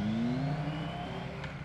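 A Moto Guzzi Stelvio motorcycle engine pulls with a rising tone that slowly fades as the bike moves off, heard briefly and faintly with no talking.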